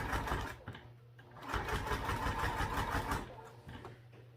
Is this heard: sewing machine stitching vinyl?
yes